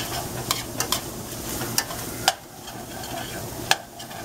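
Flour cooking and being stirred in a hot pan as a thickener for shepherd's pie, a steady sizzle and fry punctuated by sharp scrapes and clicks of the spoon against the pan, with no talking.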